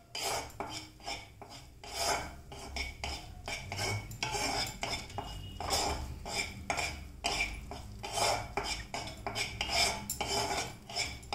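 A spoon scrapes and stirs flour roasting in ghee in a pan for Mysore pak, a steady run of rhythmic metallic scraping strokes heard up close.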